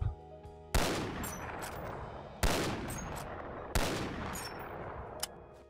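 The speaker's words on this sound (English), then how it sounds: "I love this pistol, dude." Three sharp pistol shots in the VR game Bonelab, loud and evenly spaced over a few seconds, each with a short reverberant tail, no talking.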